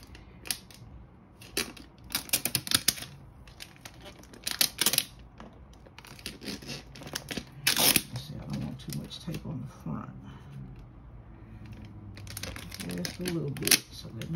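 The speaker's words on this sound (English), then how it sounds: "come with this tape to secure it to the t-shirt" Tape is pulled and torn in a series of crackling, ripping bursts to fasten a gift basket to a t-shirt, interspersed with rustling and handling noises while a person talks throughout.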